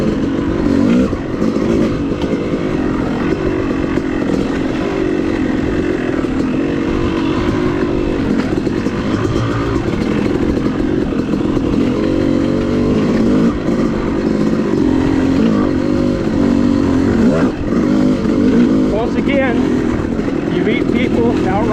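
A motorcycle rides an OHV trail of sand and orange South Carolina clay at Enoree. Its engine drones loud and continuous throughout, close to the microphone, with rough wind-like noise.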